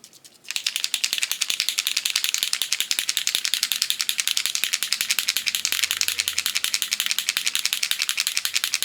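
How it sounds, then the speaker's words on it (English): A fast, continuous rattling clatter from a pet rabbit moving about nearby, steady and loud for several seconds with no voices. "You hear that noise? That's my bunny being chaotic."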